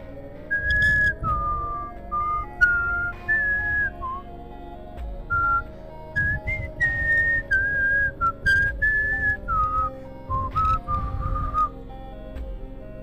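A person whistles a wavering melody of short and sustained notes, close and clear, with brief pauses between phrases and nothing else over it.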